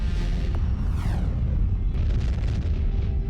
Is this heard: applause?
no